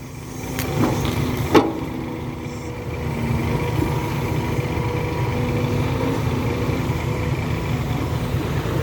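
A tracked excavator digs soil and loads it into a dump truck, its diesel engine holding a steady low rumble throughout, with a sharp metallic clank near the start; no one speaks.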